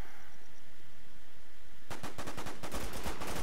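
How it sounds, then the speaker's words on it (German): After a quiet stretch, a rapid burst of video game gunfire from The War Z erupts, loud sharp shots rattling in quick succession. "Nochmal Schüsse."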